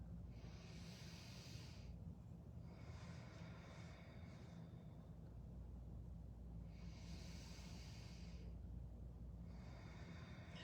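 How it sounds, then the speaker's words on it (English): Slow, deep breaths during a seated chair yoga pose, each long airy inhale and exhale rising and fading in a steady rhythm, close and soft over a low room hum, with no talking. "We're gonna find 3 deep breaths here."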